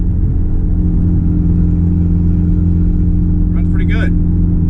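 A 25-year-old project truck, a former shop truck, pulls in third gear with a steady, loud mid-pitched engine drone heard from inside the cab, holding nearly constant with a brief brighter flutter near the end.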